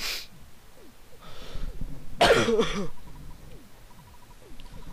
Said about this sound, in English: Man, this cough just sucks.